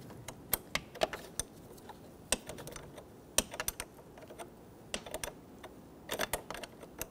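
A 10mm wrench tightens the negative battery cable nut on a 2005-2021 Nissan Frontier 4.0L, giving quick faint ratcheting clicks in short irregular bursts against quiet background, with no talking.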